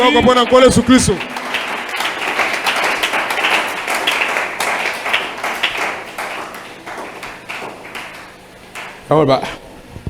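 Church congregation applauding and cheering together to acclaim the Lord Jesus, a dense sustained wash of clapping with voices that swells after a brief opening burst and fades near the end before a short final surge.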